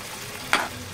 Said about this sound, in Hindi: प्याज हमारी ब्राउन हो चुकी है, मैं इसमें अदरक लहसुन और प्याज का पेस्ट डालेंगे।